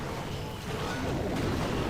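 Bombs explode during a Clash of Clans attack, a dense, loud wash of booming blasts and crackling debris with no clear gaps, plus game effects layered on top.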